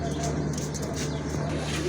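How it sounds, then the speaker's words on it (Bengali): Domestic pigeons kept for sale coo softly and repeatedly over a steady background hum, close at hand. "আরেক জোড়া কবুতর দেখতে পাচ্ছেন"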